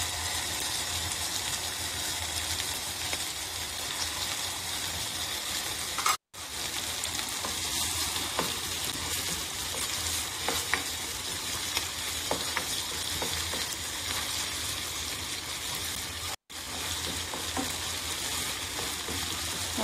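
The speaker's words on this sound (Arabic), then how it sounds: "راح أحمسه أول شيء على جنب الحالة" Tomato paste fries and is stirred in a pan while making Indian chicken curry, a steady loud sizzle running throughout with scraping stir strokes and two brief breaks.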